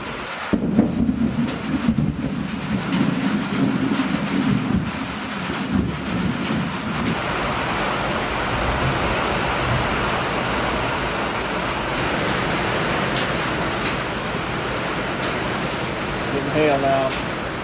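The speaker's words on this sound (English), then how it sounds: "heavy rain and hail on a metal roof with no insulation is very loud" Heavy rain and hail pounding an uninsulated metal cabin roof during a severe overnight storm, a loud, dense, continuous roar. A voice is heard briefly at the start.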